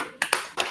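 A group claps the 'tepuk salut' rhythm, three quick sharp claps in a short pattern, close and crisp with no talking.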